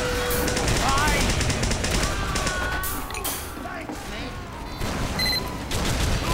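Rapid automatic gunfire rattles in Team Fortress 2 during a close multiplayer fight, with dense bursts and explosions and players shouting over it.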